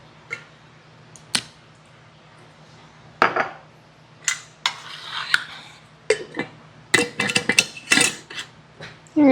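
A spoon stirs a homemade lemon juice drink sweetened with liquid stevia, giving scattered clinks and scraping against the glass in irregular bursts. The sound is close and moderately loud with no talk.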